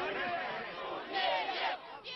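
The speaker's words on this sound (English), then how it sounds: "Resign, resign, they shout." An angry crowd chanting "resign" at a protest over deaths in a fire, a mass of many shouting voices heard at a distance in rising and falling waves.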